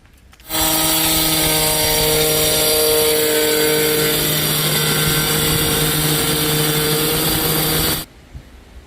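A power cutter slices through material during a home work-area makeover, a loud, steady high-pitched motor whine that starts abruptly, holds for about seven and a half seconds and then cuts off.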